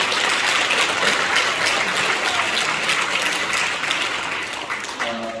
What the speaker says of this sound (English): Can we please clap it up for our honorees one more time?